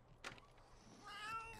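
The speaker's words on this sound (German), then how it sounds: "Hier ist eine Katze, oder?" A short, faint cat meow from The Sims 3 rises near the end, following a brief soft click, with light background game ambience.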